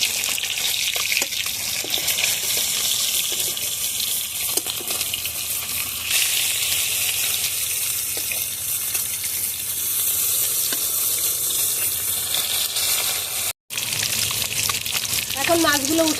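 Pieces of rui fish sizzle and crackle in hot oil in a pan, a dense continuous hiss with a few scraping knocks as they are turned, close and loud.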